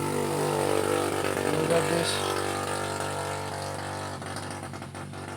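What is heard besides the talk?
motor engine noise in the video game Little Nightmares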